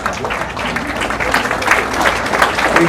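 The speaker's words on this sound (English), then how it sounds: "Big round of applause." An audience at the St. Louis Sports Hall of Fame ceremony claps continuously in a dense, even round of applause that swells slightly toward the end, with faint voices beneath.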